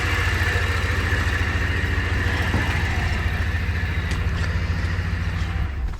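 A truck engine runs steadily close by, a continuous loud idling rumble with an even low throb that barely changes, no voices.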